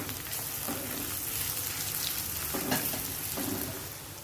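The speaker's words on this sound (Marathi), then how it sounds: "आपण हा हिंग घातला आहे आणि छान असं परतून घेऊया" Onion-tomato masala with red chilli powder and asafoetida sautés in a pan for a soyabean chunks dish, a soft, fairly faint sizzle punctuated by a few stirring scrapes.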